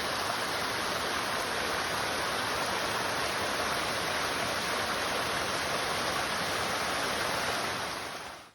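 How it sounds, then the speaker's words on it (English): Hardcore Cascade, a waterfall on the Appalachian Trail, roars as a steady, close, full rush of falling water, unbroken and even before fading out at the very end. "Another waterfall today called Hardcore Cascade."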